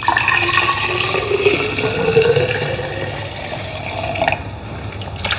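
Cold brew coffee mixture poured into a jug of at least one liter, a steady close liquid pour with a rising gurgling tone as the vessel fills, continuous throughout.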